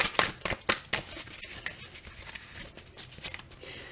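Tarot cards are shuffled by hand in a series of quick riffling, papery bursts and soft taps, close and fairly clear, with no talking.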